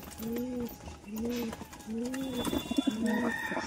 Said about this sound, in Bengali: দেখো পায়রাগুলো খাচ্ছে।